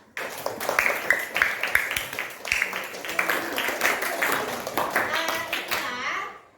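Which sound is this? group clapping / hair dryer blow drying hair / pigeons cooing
group clapping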